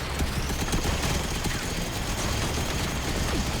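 Rapid sustained minigun fire in the robot battle game Robocraft, a dense continuous mechanical rattle with overlapping gunfire from several weapons, loud and steady throughout with no talking.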